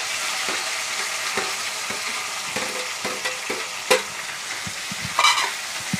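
Tomato added to a hot pan of green chilies and curry leaves, with a constant sizzle, scraping stirs, and a few louder clatters and spits, heard up close and alone.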